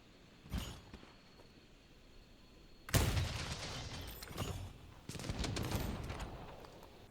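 Heavy bowgun rapid fire in the video game Monster Hunter Wilds: a single sharp shot, then a long dense burst of rapid shots, a pause, and another sustained barrage, loud and close.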